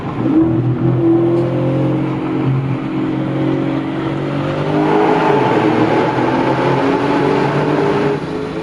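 V8 Audi S6 with a DSG gearbox driving through a tunnel, its engine a steady, loud low drone that swells midway as it pulls harder, echoing continuously with no talk.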